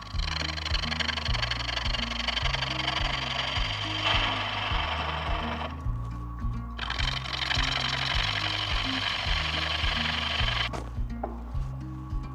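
Wood lathe spinning a green aspen bowl blank while a tenon is cut for a four-jaw chuck, giving a continuous loud rumble with rhythmic thumping and scraping tool noise, close by, briefly easing twice.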